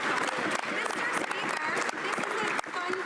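The Liberal caucus applauds in the House of Commons during Question Period, dense sustained clapping mixed with crowd noise and overlapping voices, fairly distant in the chamber.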